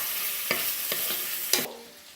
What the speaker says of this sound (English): Mix the bacon up.